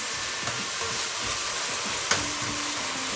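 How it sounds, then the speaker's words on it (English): Tomatoes and oil fry in a pot with a steady, even sizzle, and a brief clink of a utensil cuts in partway through, with no voices. "Fry it like for 5 to 7 minutes"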